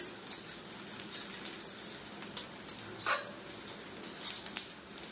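Onions fry until reddish-brown in a pan for yogurt chicken, giving a quiet, continuous sizzle with scattered scrapes and taps from stirring.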